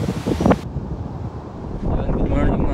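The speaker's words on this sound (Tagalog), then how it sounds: "wala nang ulan, hangin na lang na malakas" Strong typhoon wind gusts roar and buffet the microphone in low rumbling bursts, with faint voices underneath; no rain.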